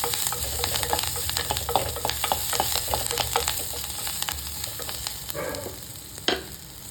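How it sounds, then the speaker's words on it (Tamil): Onions sauté in a pan with a constant close sizzle. Frequent stirring scrapes and clicks run through it, and one sharper knock comes near the end. "வெங்காயம் ரொம்ப வதங்கக்கூடாதுங்க. பாருங்கள், ஓரளவுக்கு இந்த மாதிரி வதங்கணும்."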